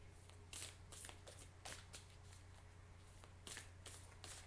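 Tarot cards are shuffled by hand in a series of quick, soft riffling bursts close by, faint overall over a low steady hum.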